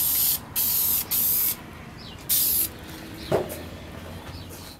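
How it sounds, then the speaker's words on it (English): Spray lacquer from an aerosol can misted onto a wooden book rack in a shop, four short loud hissing bursts in an uneven rhythm, up close, followed by a faint clack and quiet room noise. "I'm going to use a spray lacquer because that's what I have handy"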